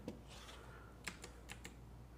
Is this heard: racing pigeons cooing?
no